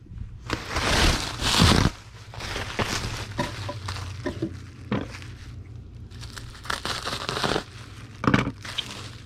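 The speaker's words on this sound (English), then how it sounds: "Now let's get a sheet of bubble wrap, cut it in half." A sheet of bubble wrap is handled and cut in half while packing items for eBay sales, giving bursts of close crinkling and crushing plastic rustle that come and go over steady low background hum.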